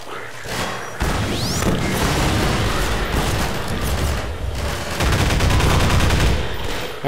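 Half-Life 2 combat fills the scene with continuous dense gunfire and rumbling blasts, loud and chaotic throughout, with a voice heard briefly.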